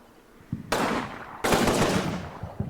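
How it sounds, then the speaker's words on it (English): A BAR automatic rifle in the Combat Mission World War II game fires two sustained bursts of rapid shots, moderately loud with a short pause between them, over quiet battlefield ambience. "I hear a BAR or something firing."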